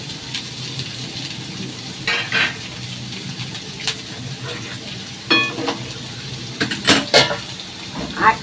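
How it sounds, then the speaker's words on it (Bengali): Chopped onions and vegetables fry in hot oil in a pan, a low steady sizzle broken by repeated clanks and scrapes of a spoon stirring against the metal, close and busy. "এই পেঁয়াজ মিয়াজ মানে যা যা কাটা ছিল সবজিগুলো এর মধ্যে দিয়ে দিলাম।"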